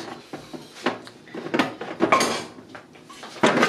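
Hard clatter of a cleaned, carved bone being set down on a metal oven tray, a few sharp knocks and scrapes at close range with no voices.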